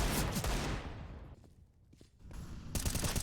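Automatic rifle fire in a competitive first-person shooter match, with rapid bursts of shots, dense at the start, thinning out and then returning loudly at the end.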